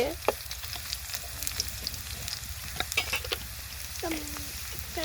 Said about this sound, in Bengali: পেঁয়াজ কাঁচামরিচ খুব ভালোভাবে ভেজা নিছি লাল লাল কইরা